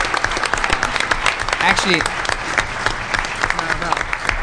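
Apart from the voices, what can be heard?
conference audience round of applause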